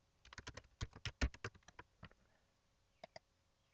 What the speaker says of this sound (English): You just type in the username